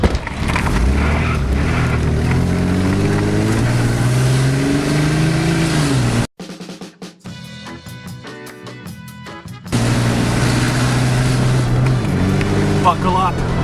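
A car engine revs and accelerates away, its pitch climbing, with voices shouting over it; the roar drops out briefly, then returns.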